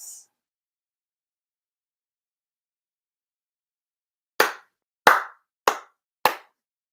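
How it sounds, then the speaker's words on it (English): Four sharp ritual hand claps at a Shinto monthly ceremony, struck one after another in near silence, crisp and close with brief decays between them. "4 sincere claps."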